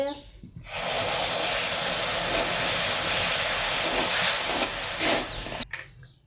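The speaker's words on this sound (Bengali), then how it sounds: "বন্ধুরা এবার জল দিয়ে দেওয়া হচ্ছে" Water poured into hot sugar in a pan for a semolina pantua syrup sets off a loud, sustained steam hiss lasting several seconds, then cutting off abruptly.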